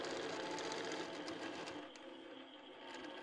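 Sewing machine stitching free-motion ruler quilting on a fabric panel, a fast steady mechanical whirring that slows and softens partway through, close up and alone without talk.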